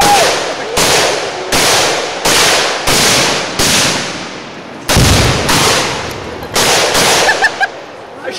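Tannerite blowing apart pumpkins at a Halloween shoot, loud sharp blasts repeating roughly every half second to second across the clip, each with a ringing broadband crack and short decay, a few smaller pops near the end.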